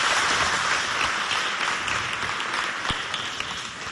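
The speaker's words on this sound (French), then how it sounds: "Applaudissez déjà." Loud, dense applause from a school audience at a Chadian lycée event, steady and continuous for the whole stretch with no voices over it.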